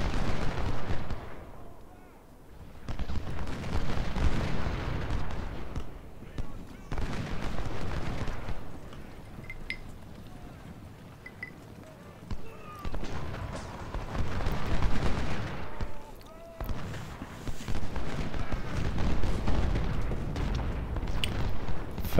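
Cannon artillery booms in the Civil War battle game Ultimate General: Civil War, repeated deep rumbling blasts rolling in waves over a continuous battle din, with someone talking at times.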